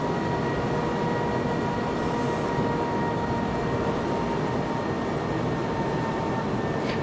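A train in Train Sim World 2022 runs with a steady, loud rolling roar of wheels on track, a brief high screech of braking partway through, with no talk.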